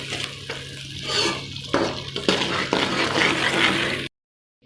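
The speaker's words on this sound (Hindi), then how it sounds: "हरी मिर्च और लहसुन को भी मैं साथ ही इसके फ्राई करूँगी" Green chili and garlic sizzle and crackle in a hot pan, with a few sharp stirring scrapes, then the sound cuts off abruptly.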